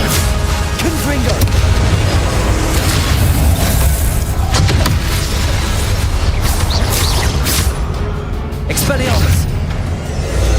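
Repeated spell-blast explosions from the Confringo curse in the Hogwarts Legacy video game, loud booming bursts layered over dense battle effects and shouted spell names throughout.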